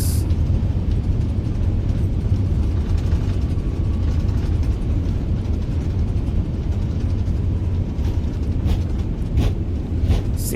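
Airbus A380 engines in full reverse thrust after landing at Christchurch, a loud, steady, broadband roar that holds unbroken for the whole stretch.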